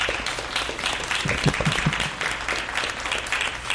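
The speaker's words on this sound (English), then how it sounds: "Well, Aubrey, a round of applause for our panelists" Audience applause for panelists at the close of a training session, a dense, sustained wash of many hands clapping at moderate loudness with no talk over it.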